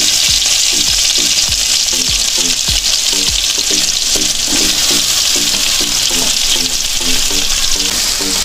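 Onions frying in a pan for menudo, a loud, dense, continuous sizzle close by with rhythmic scraping of a spoon against the pan.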